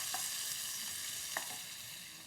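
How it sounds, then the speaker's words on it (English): Lamb and sausage meat searing in a pot, a continuous quiet sizzle with two sharp utensil clinks from stirring, close and without voices. "we're searing the meat to keep as much of the juices in as we can"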